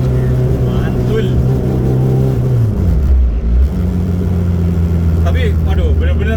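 A Honda Civic EG6 in full spec drives along a road, its engine humming loud and close with shifts in pitch as it changes speed, while people talk over it.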